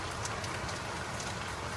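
Heavy rain pours down in a steady, dense hiss of drops hitting nearby surfaces, continuous throughout with no talking.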